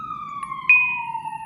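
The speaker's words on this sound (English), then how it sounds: "That was 2 ambulances." Ambulance siren wailing steadily at close range, its pitch sliding slowly downward as it passes, loud over a low rumble of traffic with no talking.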